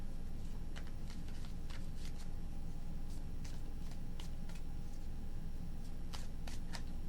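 Tarot cards riffle and flick in short, crisp bursts repeated several times, faint and close, over a steady low rumble.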